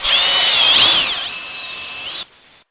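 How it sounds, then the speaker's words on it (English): A power drill whines at high speed with a spinning 10mm wire brush, working on a Skoda Fabia handbrake cable, loud and steady, dropping in pitch before cutting off abruptly near the end. "10mm diameter wire brush on a drill"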